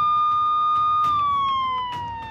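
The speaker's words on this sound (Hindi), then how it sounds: "पुलिस के सायरन की आवाज सुनाई पड़ती है" A police siren wails steadily during a disturbance by Kanwar Yatra pilgrims on a road in India, its pitch slowly sliding downward, loud and fairly close, with a few sharp knocks or bangs mixed in.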